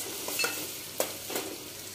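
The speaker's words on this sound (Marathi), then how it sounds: "कांदा परतवून घेते।" Onion sautés in a pan over medium flame with a constant near sizzle, interrupted by a few brief scraping stirs of a spoon, with no voices.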